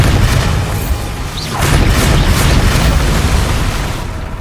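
A Bombarda spell explosion in the Hogwarts Legacy video game bursts out as a deep, sustained boom with a rushing blast that swells midway and stays loud for several seconds.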